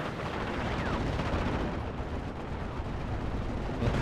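Howitzer artillery fire in the Normandy 1944 strategy game Steel Division: Normandy 44, a dense, continuous barrage of loud booming shots and gunfire that fills the whole stretch without pause.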